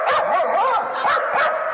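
A wiener dog barks and yips continuously and loudly nearby in a quick, excited string of repeated barks with no pauses.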